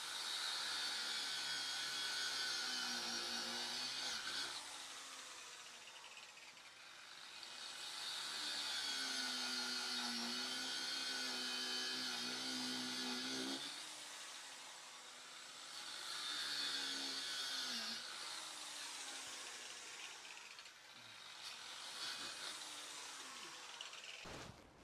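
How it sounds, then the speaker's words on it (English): Angle grinder cutting through a roll of geotextile fabric for a drainage trench, a loud sustained high whine that swells and eases in three long passes with brief lulls between, no talking. "Testing with the angle grinder."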